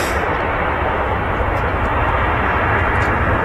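A Ryanair airliner arriving from Budapest at Manchester Airport gives off a loud, steady broadband engine roar that holds evenly throughout, close and sustained with no break.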